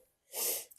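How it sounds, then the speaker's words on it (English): A single close sneeze, a short sharp burst of breathy noise after a quiet intake, heard alone in an indoor room. "Just give me a second, I'm about to sneeze."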